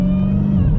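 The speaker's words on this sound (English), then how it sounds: "that supercharger whine combined with that insanely dirty V8 exhaust" Supercharged V8 of an 888 hp Dodge Hellcat XR widebody: a steady, loud, dense engine drone with a strong low tonal hum and a faint high whine, close and continuous through the short moment.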